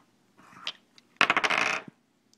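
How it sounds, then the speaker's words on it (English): Dice rolled on a surface for a math facts game, a short rattle followed by a louder clattering tumble of several rapid clicks that settles with a final tap, close and with no talk. "try rolling dice."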